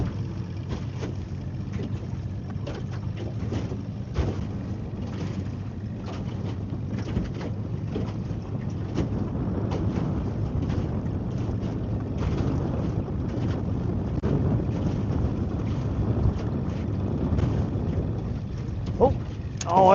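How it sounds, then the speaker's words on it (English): Wind gusting over a fishing boat on a lake, a steady broad rush with low rumble and buffeting that holds for the whole stretch, with a louder gust near the end. "Wind appears to have shifted directions."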